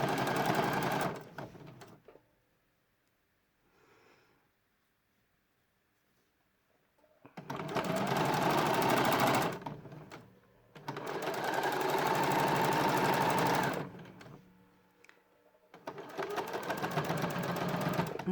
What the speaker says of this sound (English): we're just going to sew up